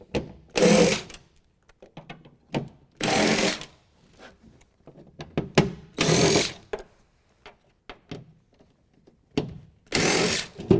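A T30 Torx driver backs out Torx-head bolts from a truck bed during a BedRug bedliner install: four loud, short mechanical whirring bursts with quiet clicks and handling noises between them.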